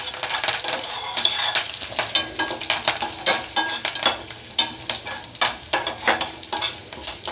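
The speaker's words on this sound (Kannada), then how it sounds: "ಗೋಡಂಬಿ ಕೆಂಪಾಗೋ ಮಟ್ಟ ಚೆನ್ನಾಗಿ ಹುರ್ಕೋರಿ" Cashews fry in a pan for bele bath made with little millet, giving a close, crackling sizzle with repeated scraping stirs of a utensil against the metal.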